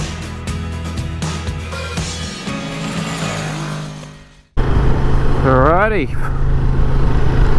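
Honda Transalp motorcycle engine running loud and close, with a brief dropout midway before revving up again through rising and falling gear pulls; a person speaks over the first part.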